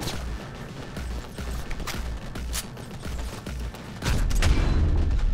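Loud sniper rifle gunfire in the video game Cyberpunk 2077, with repeated sharp shots and booming blasts over constant battle noise, growing heavier near the end.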